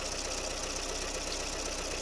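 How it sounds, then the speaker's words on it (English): Peugeot 504 engine, fitted with an aftermarket injection ECU, idling steadily with a continuous even rumble and light knocking texture, close and alone. "Look at the engine. Calm. Idling."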